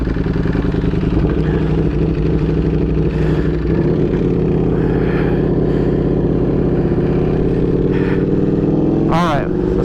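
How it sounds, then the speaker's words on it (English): A Ducati Panigale V4 motorcycle with an aftermarket exhaust rumbles loudly and steadily, its deep idle and low revving close by, with a brief rising rev near the end. "it sounds like a GP exhaust"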